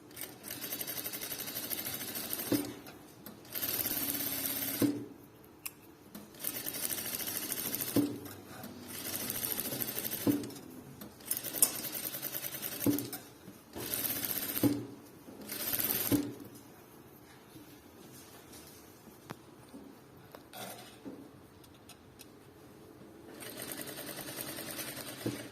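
Sewing machine stitching fabric for a single-welt pocket, running in repeated bursts of steady rapid whirring separated by short pauses, close and clear, with no talk.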